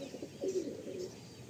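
Pigeons offered for sale coo close by, a soft, low, warbling call rising around the middle of the brief stretch and fading after, with no talk over it.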